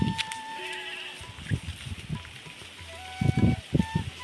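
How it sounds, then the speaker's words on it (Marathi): Sheep grazing on a mountainside bleat repeatedly, several calls near and far over a soft outdoor background with faint running water. "तिथं आपली मेंढरं आता निवांत चरू राहिले"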